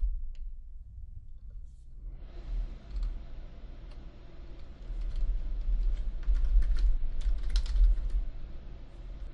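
Keys on a computer keyboard click in quick, irregular bursts after a brief quiet start, close and clear over a low steady background hum, with no voices.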